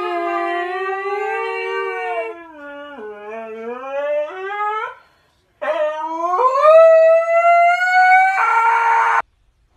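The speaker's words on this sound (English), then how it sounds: "So do we like bark at other dogs or just like people walking by?" A dog gives long, drawn-out howls that rise and fall in pitch, in two loud phrases split by a brief pause, ending on a high wavering note. No one speaks.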